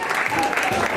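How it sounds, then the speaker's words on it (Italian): A crowd at a Valentine's event at a venue applauds the participating couples: a brief, dense burst of clapping throughout with a voice audible over it. "un applauso a tutte le coppie che hanno partecipato"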